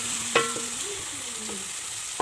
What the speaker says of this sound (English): I'm going to wait for these onions to just saute a little bit before I can add in my tomatoes.